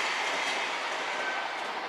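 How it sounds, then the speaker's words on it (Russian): A passenger train bound for Saint Petersburg rushes past, a loud sustained roar of wheels on rails with a faint high squeal, no voices over it. "какие здесь поезда мчатся."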